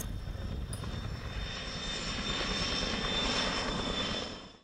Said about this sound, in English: it does have that wonderful turbine sound and smell.